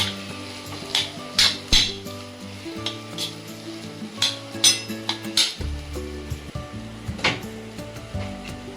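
Bread vada filling sautéing in a pan, with a soft sizzle under repeated metallic clinks and scrapes of a spoon against the pan, irregular and close, no voices.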